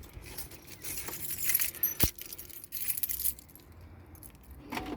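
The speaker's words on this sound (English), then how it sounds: "unlock the door." Keys jangle and clink near the microphone while a door is unlocked, with a sharp metallic click partway through and further rattling afterward.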